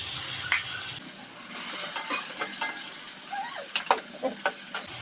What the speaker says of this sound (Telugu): రొయ్యలు కూడా నూనెలో ఫ్రై అవ్వాలి కదా